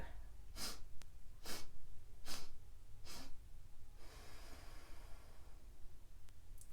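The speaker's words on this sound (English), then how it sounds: "We're going to see if we can do 4 bunny breaths or bunny sniffs before we breathe out." Four quick, sharp sniffs in an even rhythm, followed by a longer, softer exhale, all close and quiet, in a children's yoga 'bunny breath' breathing exercise.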